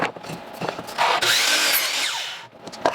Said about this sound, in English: using this jig, I'm going to put a 5-degree taper up 3 inches on the leg on 2 sides